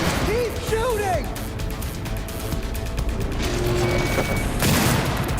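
Gunfire from Cyberpunk 2077 rattles in dense, continuous bursts through a busy combat mix, with shouting voices and crashing effects layered over the loud, sustained shooting.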